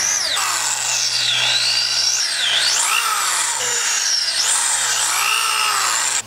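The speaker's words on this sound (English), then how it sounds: "Drill these out." A drill whines continuously, its pitch rising and falling as it bores out holes in a 3D-printed plastic part, loud and close with no talking.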